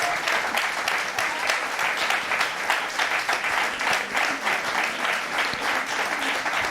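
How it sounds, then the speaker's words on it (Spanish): Sustained audience applause after a talk by three speakers, steady and dense clapping from a full room, continuing throughout without any talking. "un aplauso para las tres antes de pasar a las preguntas."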